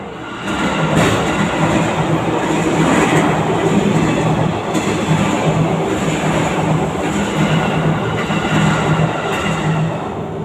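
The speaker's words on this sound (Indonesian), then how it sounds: "sebelumnya saya minta maaf ada suara kereta ya" A train rumbles past steadily and loudly, with continuous rolling rail noise and faint rhythmic clatter throughout, no voices.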